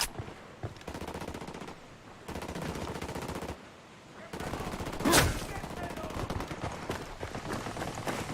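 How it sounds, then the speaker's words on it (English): Automatic machine gun fire in the tactical shooter game Ghost Recon Wildlands, sustained rapid bursts with short pauses between them and one sharp louder shot partway through. "I'm opening fire on these shitheads."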